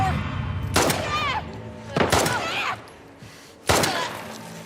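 Three sharp, loud gunshots ring out in The Last of Us Part II, each followed by a ringing tail, spaced over a few seconds with short quiet gaps between them.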